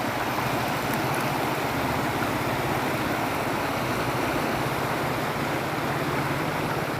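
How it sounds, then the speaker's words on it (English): The Umanod River flows in a steady, dense rush of water that fills the whole clip evenly, loud and unbroken, with no voices. "Ito ang Umanod River."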